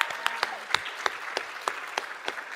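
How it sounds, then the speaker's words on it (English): Scattered, sparse clapping from a small audience, a handful of distinct claps ringing out at an uneven pace over a few seconds. "let's give her a applause. Give it up."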